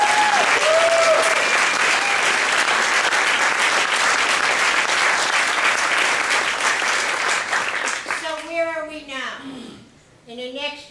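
Audience applause fills most of the clip, dense and loud clapping that rises to a sustained peak, then fades as cheering voices and children's shouts break through near the end.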